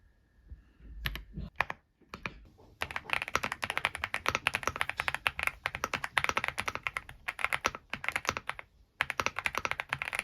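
Close, continuous typing on a LeoBog Hi75 mechanical keyboard, with a rapid stream of soft, creamy clacks after a few scattered opening taps.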